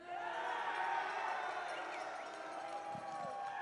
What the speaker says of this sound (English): Crowd's ready to get it going